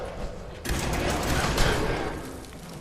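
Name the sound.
gunfire in Fallout 4 video game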